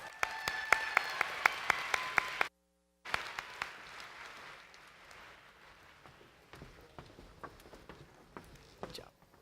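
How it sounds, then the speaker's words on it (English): An audience at a state FFA convention session claps for award recipients and sponsors, a scattered patter of individual hands that drops out briefly, then resumes thinner and fades to sparse claps. "let's give our award recipients and our star partner and session award sponsor one more round of applause"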